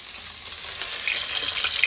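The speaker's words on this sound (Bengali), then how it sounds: "তারপর মাছ ভাজবে" Native koi fish frying in a hot pan, a close, crackling sizzle with sharp pops and spits that grow busier toward the end, heard alone without talk.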